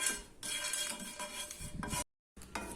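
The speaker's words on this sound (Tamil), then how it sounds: "இதை போட்டு லைட்டாக மணம் வர வறுத்துக்கலாம்" Cloves, cinnamon and star anise dry-roast in a pan, with soft scraping and rattling of a spatula stirring whole spices against metal, close and quiet, briefly cut to silence near the end.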